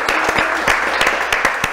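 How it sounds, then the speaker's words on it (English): An audience at an artist talk applauds, a steady wash of many hands clapping close by, with a few sharper individual claps standing out throughout. "Let's give her a great round of applause."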